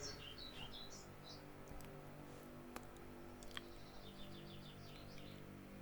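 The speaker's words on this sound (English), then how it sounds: "my little bird friend is singing outside the door" A small bird sings outside a door in short, faint, high chirps and trills, a few brief phrases at the start and again near the end, distant against a quiet indoor hum.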